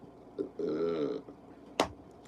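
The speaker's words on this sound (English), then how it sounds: "Got a burp, guys. Got a burp." A single short burp up close, faint and alone in an otherwise quiet room, followed by a small sharp click.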